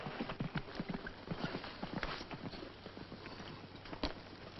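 Several cavalry horses mill about as riders dismount, with hooves clip-clopping irregularly on hard ground, close and fairly quiet, plus scattered shuffling steps.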